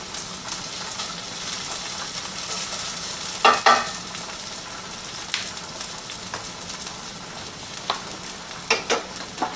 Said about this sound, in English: we're going to cook that zucchini in the same oil as the garlic